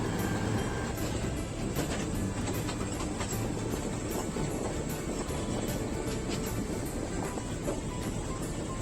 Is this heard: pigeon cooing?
no